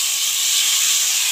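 Tomato hits a hot pan of oil for a Bengali katla fish curry with fenugreek, giving a loud, close, steady sizzle and hiss without any talk.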